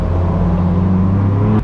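Straight-piped BMW M4 F82 exhaust droning loudly and steadily up close, a deep constant engine tone with no voices.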